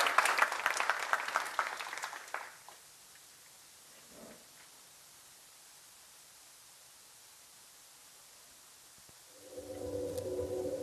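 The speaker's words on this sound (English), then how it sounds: "A big applause for Annika." Audience applause at a talk event for a Swedish Lapland visitors board fills the first two and a half seconds, then fades into near silence; a tonal hum rises near the end.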